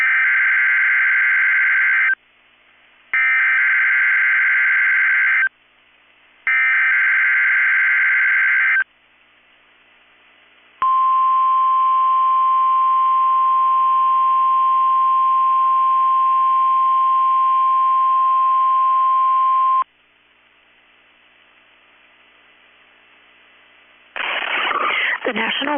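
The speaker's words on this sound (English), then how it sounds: "has just activated the warning alarm on 13 weather radio stations" NOAA weather radio Required Weekly Test from the National Weather Service in Chanhassen, Minnesota: three loud digital data bursts, then a long steady warning alarm tone of about nine seconds, a quiet stretch, and a voice starting at the end.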